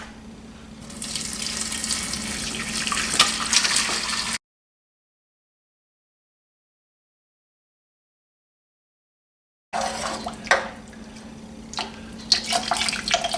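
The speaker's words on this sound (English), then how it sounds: "use a small handheld strainer and another pot to strain out your turkey stock" Turkey stock poured through a small handheld strainer into a pot, a close, steady liquid splash and trickle that stops in silence for a few seconds, then resumes with drips and spatters.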